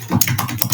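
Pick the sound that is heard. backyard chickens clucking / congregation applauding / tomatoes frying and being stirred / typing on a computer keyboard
typing on a computer keyboard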